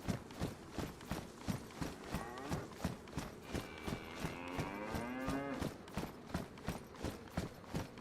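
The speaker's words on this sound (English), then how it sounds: "That is cow." Cattle in the DayZ survival video game low in a long drawn-out moo that rises and bends, set over a steady, evenly spaced run of thudding footsteps that continues throughout.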